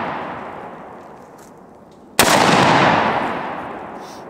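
A single loud shotgun blast at an outdoor gun range, sharp and close, followed by a long decaying boom after a stretch of steady background noise.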